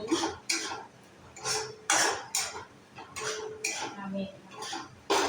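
A spoon stirs kochu shak (taro leaf) ghonto in a cooking pot, giving repeated metallic scrapes and clanks in an uneven rhythm, close and fairly loud, with a few quiet vocal sounds between them.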